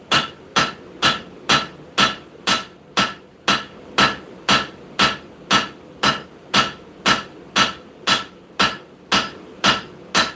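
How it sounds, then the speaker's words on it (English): Regular, evenly spaced hammer blows ring out one after another on hot steel at a forge, the straight peen of a straight peen–cross peen hammer drawing out a handle; about twenty sharp, loud strikes at a steady rhythm, with no voices. "We're going to use the straight peen side of the straight peen cross peen and come across it."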